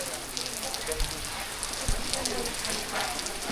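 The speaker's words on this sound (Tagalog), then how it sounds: "Lakas ang ulan." Heavy rain with wind near the sea makes a dense, steady hiss, with a couple of soft low thumps.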